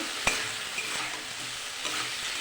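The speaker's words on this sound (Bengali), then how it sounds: "বেগুন দিয়ে ভালো করে কষিয়ে নেব, আলু বেগুন একসাথে।" Eggplant and potatoes sauté together in a hot pan, a soft steady sizzle broken by a few scraping spatula strokes and light clinks, close up with no talking.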